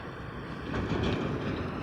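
Train wagons roll at Sonu railway station near Jaisalmer, where ballast stone is loaded, giving a steady rumbling clatter of wheels on track that swells slightly, heard at a moderate distance without talk.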